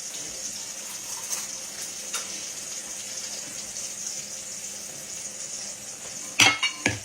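Water runs steadily in a home kitchen while pork chops, cabbage and deviled eggs are being cooked, a faint continuous pour ending in a few louder splashes and clinks near the end.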